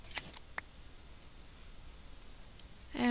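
Minecraft shears clipping sheep produce a few short, crisp snips near the start, then quiet game ambience, with another sound rising at the very end.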